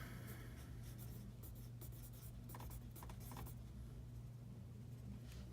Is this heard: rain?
no